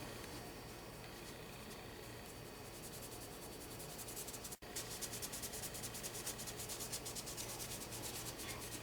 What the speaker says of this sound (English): I'm going to polish it up here again with the this polishing compound.